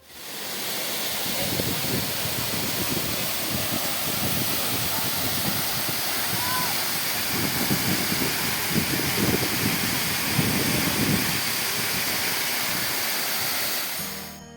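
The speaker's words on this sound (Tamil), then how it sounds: "இந்த வளஞ்சங்கானம் அப்படின்ற ஒரு மிகப்பெரிய ஆர்ப்பரிக்கும் நீர்வீழ்ச்சி" The Valanjanganam waterfall roars in a dense, continuous rush of falling water, loud and steady for the whole stretch with no voices.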